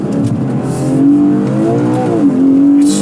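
A Ferrari SUV's engine revs loud and close while driving, a smooth rising and falling tone that climbs, dips and climbs again.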